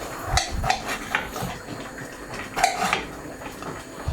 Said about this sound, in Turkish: patlıcanı aldım küp küp gibi doğruyorum